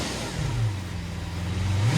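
A Lamborghini Veneno Roadster with a naturally aspirated 6.5-liter V12 revving, a loud close engine note that holds steady and then climbs sharply at the end.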